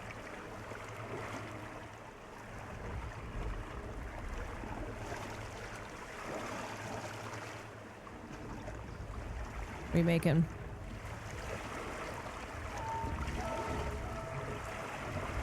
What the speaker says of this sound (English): Scary ocean noises.